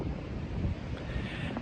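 Wind blowing on a windy night, a low rumbling buffet of gusts against the microphone, fairly faint and continuous with no voices.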